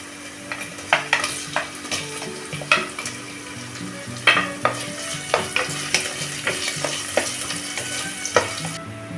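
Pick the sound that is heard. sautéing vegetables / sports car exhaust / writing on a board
sautéing vegetables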